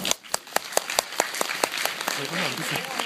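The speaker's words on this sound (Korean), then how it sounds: "박수 한번 쳐주세요." An audience at a brand concert orientation for the Yeosu World Expo bursts into applause: sharp, fairly even claps up front that thicken into a denser wash of clapping, with voices mixed in toward the end.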